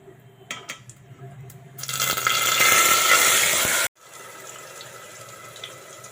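Onion gravy tipped into hot oil seasoned with mustard seeds and asafoetida bursts into a loud hissing sizzle for about two seconds, then drops to a quieter, steady frying crackle with faint stirring.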